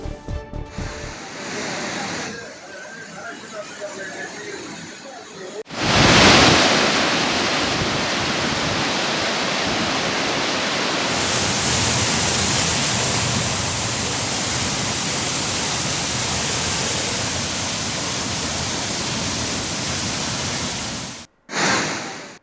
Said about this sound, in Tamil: தென்காசி மாவட்டத்தில் உள்ள சுற்றுலா மெயின் அருவி, ஐந்தருவி, பழைய குற்றால அருவிகளில் வெள்ளப்பெருக்கு ஏற்பட்டுள்ளது